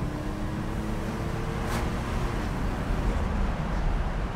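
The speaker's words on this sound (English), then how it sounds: "We'll turn left here and we'll give it a little bit of gas." A 1986 Buick Grand National T-Top Edition accelerating from a left turn, its engine a low, steady rumble blended with road and wind noise, heard from inside the car without speech.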